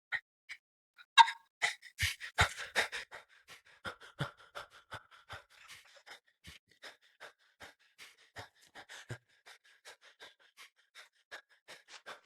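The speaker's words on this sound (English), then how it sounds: "he's panting like he ran 10 miles" Game character panting in Project Zomboid after a short walk between houses: a rapid run of short breathy puffs, louder at first and then steady and softer, close up with no talk.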